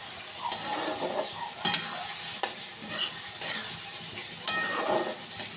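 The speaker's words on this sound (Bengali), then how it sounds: "সাদা তেল দিলাম। পাঞ্জাবি চিকেন তো একটু স্পাইসি হবে। তেল দিলাম, তেলটা একটু গরম হোক।" White cooking oil heating in a pan for a spicy Punjabi chicken gives a steady frying hiss, broken by several sharp clinks and scrapes of a utensil against the pan.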